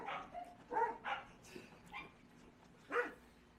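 Several dogs bark indoors in a quick uneven run of short, fairly near barks and yips, with a few whimpers between them and no talk over them.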